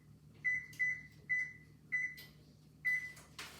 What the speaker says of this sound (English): now let's go preheat that oven to 350 degrees